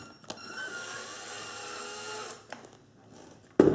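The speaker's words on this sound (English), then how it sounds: "I'm doing this with an electric drill just because it's quicker" Electric drill spinning off a nut on an HPI Savage RC truck during a metal spur gear install: a steady whirring motor run for about two seconds, a brief stop and restart, then a sharp clunk at the end.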